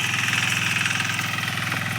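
A tractor engine runs in a vegetable field during harvest, giving a steady, rhythmic idling chug with a mechanical knock. It is close and continuous, with no voices over it.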